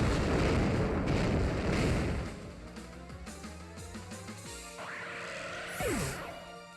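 Earthquake attack in a Pokémon battle game, knocking out Tapu Koko: a heavy, dense rumbling blast that fills the first two seconds, then tails into layered game music with a falling whistle-like sweep near the end.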